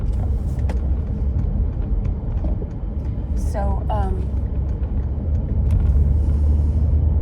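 A car driving, heard from inside the cabin: a constant low engine and road rumble runs under someone talking, with a few faint clicks.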